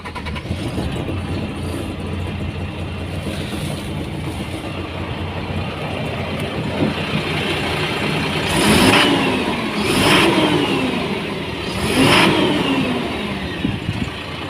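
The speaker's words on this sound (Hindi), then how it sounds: "और अभी इस ट्रक की इंजन को स्टार्ट कर इंजन के साउंड सुनाएंगे।" Engine of an Eicher Pro 6035T BS6 12-wheeler tipper truck, a steady close rumble that swells in three short revving bursts near the end, with no talk over it.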